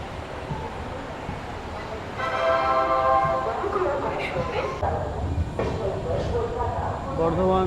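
A train rolls on after pulling out of Bardhaman Junction at night, its steady rumble rising and carrying on, with tonal squeals and muffled voices inside the carriage.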